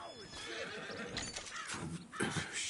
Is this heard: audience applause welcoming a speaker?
no